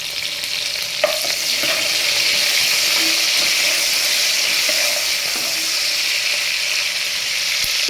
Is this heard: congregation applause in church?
no